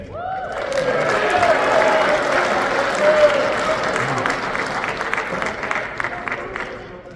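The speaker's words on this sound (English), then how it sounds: "About one more round of applause for the Army football first-classmen of" Big-room applause at an Army football awards ceremony, a full crowd clapping loudly with some cheering mixed in. It swells early, holds strong and thins gradually toward the close.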